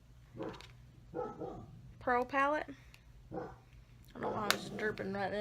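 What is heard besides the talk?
dog barking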